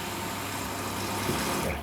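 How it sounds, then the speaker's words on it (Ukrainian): A washing machine's drain pump gives a steady, loud mechanical hum with a rushing water sound, continuous throughout with no talking, run from a Zipper 330W portable power station. "гуде, я так розумію, насос, який вичавлює залишки води з пральної машинки"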